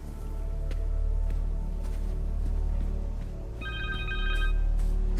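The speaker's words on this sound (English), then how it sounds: "Connor's cell phone." A cell phone rings in Marvel's Spider-Man 2 video game, a repeated electronic ringtone chiming over a low droning game soundtrack.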